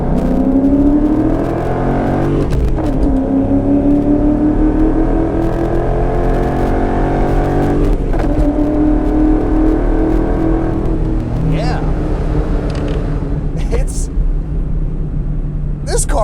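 A 2002 Ford Mustang GT's 4.6-liter V8 with Trick Flow heads and a five-speed manual revs and accelerates loudly and up close, its pitch climbing in repeated pulls with gear shifts, and a few brief voices come through near the end.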